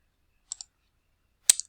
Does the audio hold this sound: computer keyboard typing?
yes